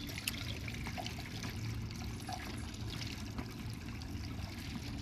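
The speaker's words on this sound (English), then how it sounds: "Please tell me that's just water." Water trickles in the horror video game Devotion, a faint steady dribbling stream over low background hum, heard alone without talk.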